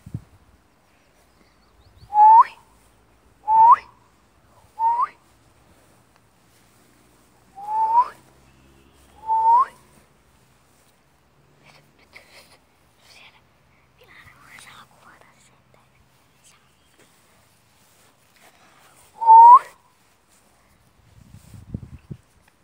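Short rising whistled notes in a loose series, three quick ones, then two more, a pause, and a final call, imitating a bird; soft rustling in between.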